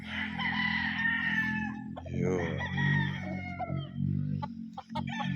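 Chickens and roosters at a gamefowl farm crow and cluck over a steady low hum, calls overlapping at moderate distance while someone speaks briefly.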